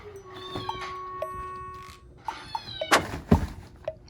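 Loud playback of a rescued cat's kitten-age meows, a series of high, drawn-out cries with a few sharp clattering knocks near the end.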